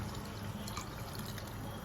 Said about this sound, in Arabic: هنضيف هسه كمية المي